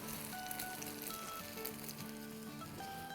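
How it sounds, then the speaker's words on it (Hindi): Egg and keema frying in oil in a pan with a paratha laid on top, a close, continuous crackling sizzle with no talking. "और इसमें डालेंगे एक ये भर के अंडा और कीमा जो हमने बनाया था ना वो, और इसके ऊपर अब अपना पराठा रख देंगे"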